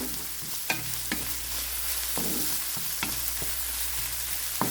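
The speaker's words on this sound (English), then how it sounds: "So we will saute this until this will become slightly golden brown or translucent, or until it will become fragrant" Pieces are sautéed in a pan, a steady close sizzle of frying with repeated clicks and scrapes of stirring, and no voices.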